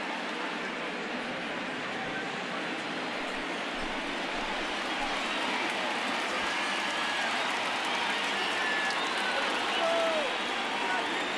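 Stadium crowd noise in MLB The Show 19 baseball, Brewers at Marlins, building into a steady, dense cheer and clapping roar that grows slightly louder over the stretch, with faint whistles on top.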